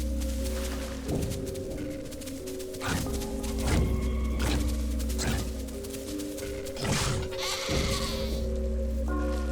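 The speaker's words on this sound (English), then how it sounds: "A goat came my way." Goat in the survival game The Isle bleating several times in a row, loud wavering cries repeated over a low steady ambient hum.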